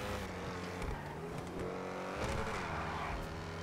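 Engine of the XA-21 supercar in GTA V, a continuous close roar with rising and falling revs and a brief squealing tire slide midway, no voices.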